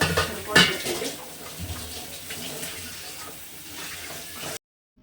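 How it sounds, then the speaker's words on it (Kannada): Water runs from a tap fed by an electric motor pump, filling a container in a home kitchen; a steady, fairly close splashing stream continues throughout before stopping abruptly at the end. "ನೀರು ಇರೋದನ್ನೆಲ್ಲ ಚೆಲ್ಬಿಟ್ಟು ನಾನು ಮತ್ತೆ ತುಂಬ್ಕೊಳ್ತಾ ಇದ್ದೀನಿ"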